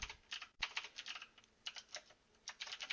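Rapid typing on a computer keyboard, close and fairly quiet, in uneven bursts of key clicks with short pauses between them and no talk.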